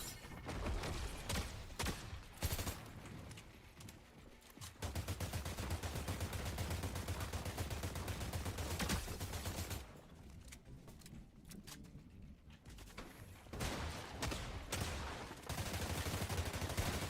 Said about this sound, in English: Oh, that was awful bit of shooting that was